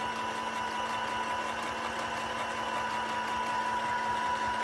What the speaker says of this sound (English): So then I get my little sewing machine ready.